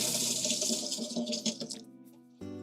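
Tap water runs steadily into a kitchen sink as something is rinsed under it, a continuous close splashing rush that shifts in tone near the end.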